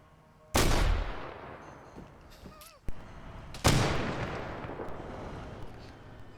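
Loud gunshots from a video game combat scene, two big booming blasts with long rolling decay and a sharp crack between them, over steady background noise.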